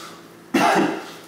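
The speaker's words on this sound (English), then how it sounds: "normally I don't cough this much with a joint" A person coughing after smoking a joint, one loud harsh close cough that starts abruptly and trails off.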